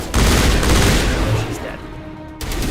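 Rapid video game gunfire as players shoot down an enemy, a loud continuous fusillade of shots filling the clip, easing briefly before resuming near the end.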